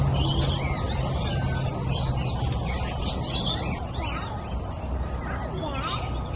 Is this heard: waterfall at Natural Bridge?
no